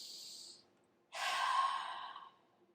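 A short exhale is followed by a pause, then a longer, deeper breath out, close and soft like a calming sigh, alone with no talk.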